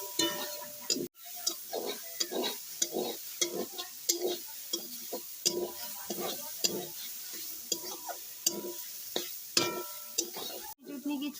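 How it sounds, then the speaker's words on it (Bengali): Gram greens and spinach being stirred and mashed with a metal spatula in a pan, a steady run of scraping, clattering strokes over a soft sizzle, close and fairly loud throughout. "এমনি খুন্তি দিয়ে এগুলা ভালো করে একটু মারিয়ে দিচ্ছি"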